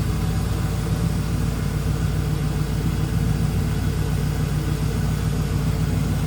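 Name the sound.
5.7 LS V8 engine idling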